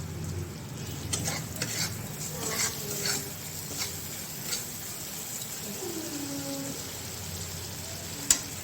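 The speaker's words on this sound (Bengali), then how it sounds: "ভালো করে মশলা কষে নেব।" Spices being stir-fried in a pan for a rohu fish curry, a soft steady sizzle with repeated spatula scrapes and stirring knocks close by, and one sharp clank near the end.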